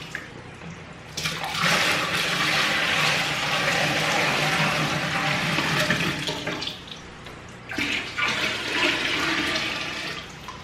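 Aged water gushes into a bucket meant for a goldfish tank, a loud, steady rushing pour that pauses briefly near the end before resuming.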